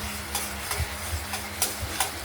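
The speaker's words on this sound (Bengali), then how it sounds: "মশলাটা কষাচ্ছি।" Ground spice paste for a rohu fish curry with potato is sautéed in a pan, a spatula stirring and scraping in regular strokes over a low sizzle, close and steady.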